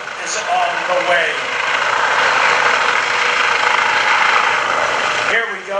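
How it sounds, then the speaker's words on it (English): A loud, steady whine of a Eurocopter EC135 helicopter's turbines with a whooshing rotor wash at an airshow, sustained and close, before cutting off abruptly near the end. "There is no finer sound for somebody in trouble to hear the sound of turbine engines and rotor blades"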